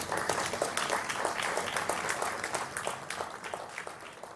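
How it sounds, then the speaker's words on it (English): At the inaugural function of an international conference, the audience gives a warm round of applause, a dense, even patter of many hands at moderate volume that continues steadily without fading. "let us express our appreciation with a warm round of applause for all the"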